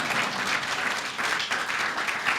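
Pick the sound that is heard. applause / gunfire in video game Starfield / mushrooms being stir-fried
applause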